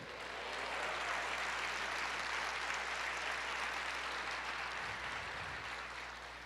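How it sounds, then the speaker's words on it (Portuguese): A church congregation claps together in sustained applause, a steady even patter that swells in and fades slightly at the end. "Aplauda o Senhor, diga eu creio."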